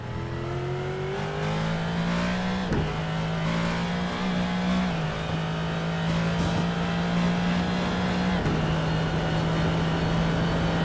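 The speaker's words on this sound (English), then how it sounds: "A massive V8 engine in that thing" Loud, continuous V8 GT3 race car engine in a sim racing video game at the Hungaroring, roaring and revving, with pitch rising through gear shifts and a brief drop around each change.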